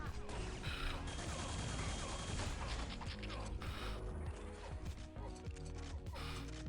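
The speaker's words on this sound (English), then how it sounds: "It's a nice hyper blaster action from Kick" Rapid hyper blaster fire in a Quake deathmatch game, a dense, continuous stream of loud energy shots mixed with other weapon fire and impacts throughout.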